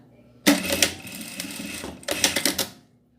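A domestic sewing machine stitches the side panel and lining of a small fabric mini backpack organizer, running in two short bursts with a brief pause between, close and fairly loud, with no talking.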